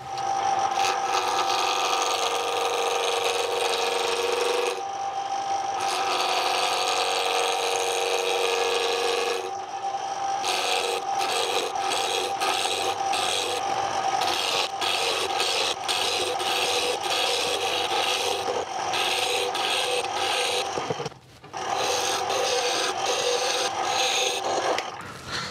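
Steady wood-turning lathe whir with scraping and rasping of a tool cutting spinning wood held between centers for a birdhouse ornament, briefly pausing a few times, continuous and close.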